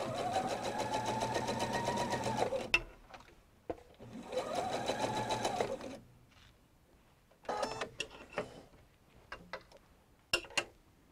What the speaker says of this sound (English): I've got a quarter inch foot on this sewing machine